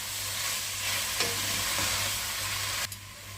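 Steady sizzling and stirring of vegetables with salted herbs in a pot for Breton white bean soup, a continuous fry hiss with a few soft utensil scrapes and a light clink near the end.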